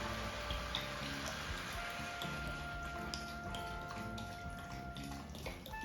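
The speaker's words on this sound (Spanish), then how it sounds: "Ahora lo vamos a cubrir con agua" Water poured over sautéed leeks in a pot for a leek and pumpkin soup, a continuous splashing and trickling with small drips, quiet and steady, no speech.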